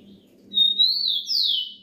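A tico-tico songbird just brought indoors sings two clear, high whistled phrases, rising and falling, over a faint low hum in a quiet room.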